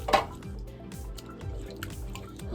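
Potatoes drop into a pot of water with one sharp close splash at the start, followed by faint wet dripping and low murmuring kitchen sounds.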